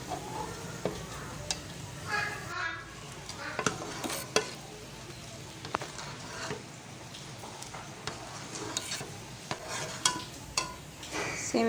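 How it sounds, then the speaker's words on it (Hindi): Vermicelli (seviyan) stirred in a pot for custard, with a steady scraping, clinking stir over a low sizzle and scattered sharp ticks of a utensil against the pot, close and continuous. "साथ ही इसमें डाल देंगे सेवइयाँ। और साथ ही इसको हलाते रहेंगे।"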